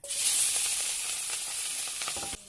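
Chopped onion and slit green chillies sizzle loudly in hot oil for an ash gourd and small shrimp dish, a close, continuous hissing crackle that fades abruptly just before the end.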